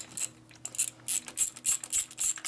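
A ratchet with a coarse-tooth gear clicks in short, uneven bursts during Harley exhaust stud and top-end repair work, the sharp metallic clicks close up and clear, with brief pauses between strokes.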